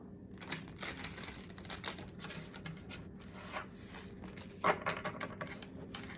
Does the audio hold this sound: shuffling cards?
yes